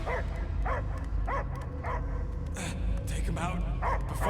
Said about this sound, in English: only barking.